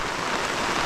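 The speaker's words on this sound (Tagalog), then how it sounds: "Sana mamaya tumila yung ulan" Steady rain falling on a house under construction awaiting a corrugated iron roof, a dense continuous hiss of drops without pause.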